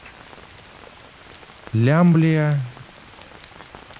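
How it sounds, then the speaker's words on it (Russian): Steady rain falls in the Green Hell survival video game, a soft constant patter of drops throughout, briefly covered by someone saying a single word in the middle. "Дождь идет."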